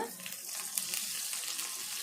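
Fenugreek seeds crackle and sizzle in hot tempering oil for a dried prawn tamarind curry, a steady, fairly quiet frying hiss with faint pops and no talking.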